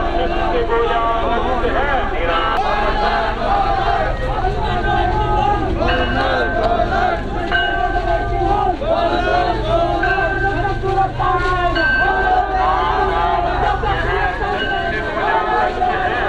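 A large crowd at a funeral with state honours, murmuring and shuffling as a steady outdoor hubbub under wind, with voices continuously present throughout.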